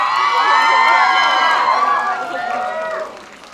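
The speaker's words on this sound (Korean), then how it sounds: "여러분 다시 한번 큰 박수 부탁드립니다" A Korean fan screening audience cheers and shouts loudly as cast and director take the stage, a dense crowd roar with whoops that fades toward the end.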